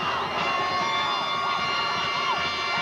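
Crowd cheering at a 1991 high school football game between Clayton and Gloucester: a steady, broad roar of many voices throughout, with faint whistle-like tones riding on top, heard from a distance.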